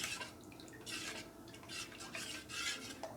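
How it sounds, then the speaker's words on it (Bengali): Rice flour batter for chitol pitha is stirred in a bowl, repeated wet swishing strokes in a rhythmic pattern, close and fairly soft, with light clinks of the spoon against the bowl. "ভালো করে নাড়িয়ে নিতে হবে।"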